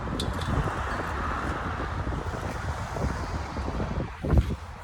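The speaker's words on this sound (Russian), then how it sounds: "В общем, ветер усиливается" Strong gusty wind buffets a microphone outdoors in a residential neighborhood of Taraz, Kazakhstan, a steady low roar with rumbling traffic mixed in and a louder burst near the end.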